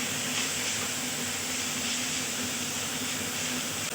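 Poppy seeds frying in a pan (kadai) with chopped banana stem, a steady, even sizzling hiss that continues without break throughout.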